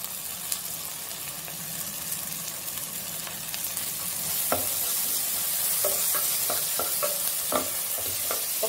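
A tomato and coriander rice mixture is stirred in a pan over heat, with a steady sizzle and frequent scraping clicks of the spoon, close and clear, and no talking.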